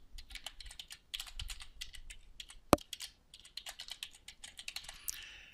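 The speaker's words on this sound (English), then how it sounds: "type in your email address" Fingers type an email address on a computer keyboard in quick, light bursts of key clicks with brief pauses between them. One sharper tap stands out.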